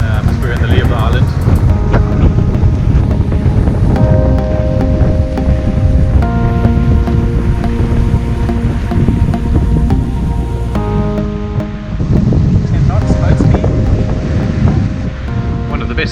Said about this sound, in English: We're sailing down the shore of Aruba here.